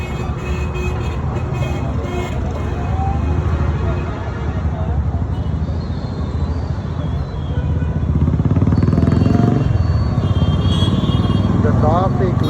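Steady road traffic roars past a kati roll shop in Bangalore, a continuous wash of engine and tyre noise with motorcycles rising and passing, a voice talking over it throughout.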